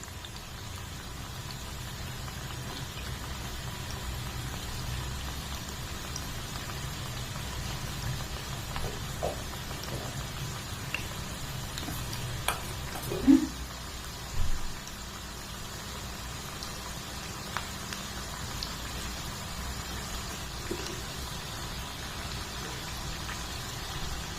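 Cauliflower Manchurian pieces deep-frying in hot oil make a steady, continuous bubbling hiss with faint sputters and a couple of brief louder pops near the middle. No one speaks.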